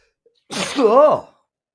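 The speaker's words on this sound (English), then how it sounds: "on air sneeze" A single sneeze bursts out on a live sports-betting talk show, about a second long, loud and close, with a sharp intake followed by a breathy, voiced release.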